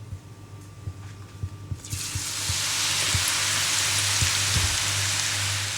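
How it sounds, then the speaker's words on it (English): Parsnip crisps drop into a hot deep fryer with a sudden loud, steady hiss of bubbling oil that rises and holds, following a few quiet kitchen knocks. "all I'm literally going to do is throw them in a nice hot fryer"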